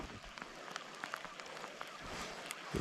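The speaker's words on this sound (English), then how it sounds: "hasn't stopped raining all morning" Rain falls steadily at a camp by Pindari Dam, a soft, diffuse patter with scattered louder drops tapping nearby surfaces.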